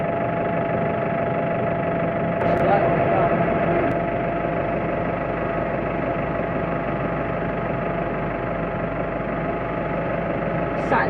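A tractor engine runs steadily throughout, heard from the back seat of the cab during bale fetching: a continuous, fairly loud low drone with constant vibration and no clear revving changes.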